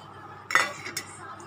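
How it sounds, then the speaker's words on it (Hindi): Semolina (rava) goes into a kitchen vessel with a sharp metallic clink of utensil on the pot, a brief scraping rattle and a second lighter tap, close by in a quiet kitchen. "अब एक बर्तन में रवा डाल देंगे"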